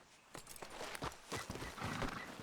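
Horse hooves clip-clopping with a brief whinny in the video game Red Dead Redemption 2, a quick run of close, moderately loud hoof strikes.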